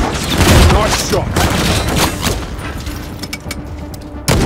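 Sustained gunfire and booming blasts in Call of Duty Modern Warfare III combat, a dense loud barrage at first that thins into scattered shots, with voices speaking over it.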